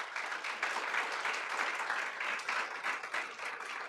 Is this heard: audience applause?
yes